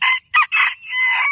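A rooster crows loud and close in several drawn-out, wavering bursts with brief gaps between them, ending in a long held final note.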